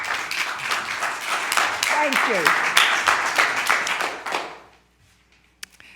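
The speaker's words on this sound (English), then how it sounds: "If you could just hold the applause." A city council meeting audience breaks into loud, sustained clapping that fades out after several seconds. A voice speaks briefly over the applause.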